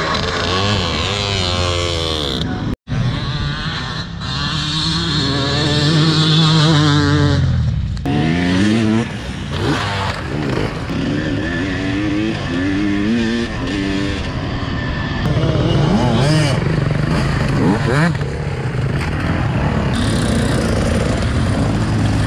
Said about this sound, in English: A beautiful German Sachs bike.